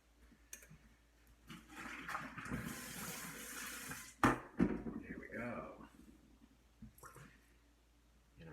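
Water from poaching duck eggs is poured into a kitchen sink, a splashing rush of several seconds followed by a couple of clatters of the pan, with some talk and kitchen noise around it.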